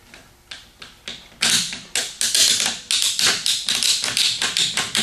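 Wheel straps on a Yakima Raptor bike rack being ratcheted down, a quick run of sharp plastic clicks in a steady rhythm, close and loud with no talking.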